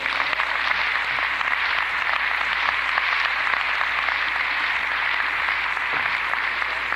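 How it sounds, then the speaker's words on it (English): An audience gives a warm welcome to a speaker at a talk, a sustained, even round of many hands clapping that stays loud and steady throughout. "Let's bring him on with a warm round of applause."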